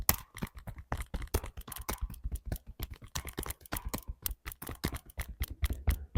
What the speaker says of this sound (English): We're making fists again, and we're just going to tap the upper chest